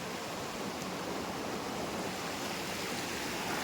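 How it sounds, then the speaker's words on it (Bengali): A waterfall stream at Lovers Point in Daringbadi pours in an unbroken, even hiss of flowing water, near and steady without any talk. "এখান দিয়ে বয়ে চলে যাচ্ছে ওয়াটারফলসটা"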